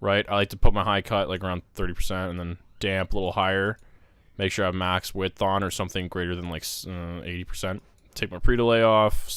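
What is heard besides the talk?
No everyday noise stands out behind the speech.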